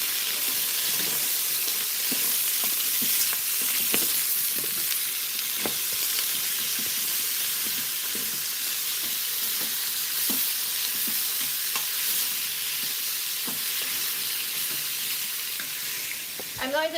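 Barley sautéing in a hot pan gives a steady, dense sizzle with scattered crackles and occasional scraping taps, continuous and close throughout with no talk.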